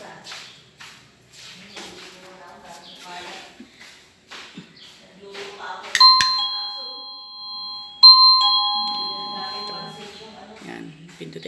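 Under steady talk, a wireless doorbell chime sounds twice, loud and close, with ringing tones that sustain and fade. Shuffling and handling noises are heard before it.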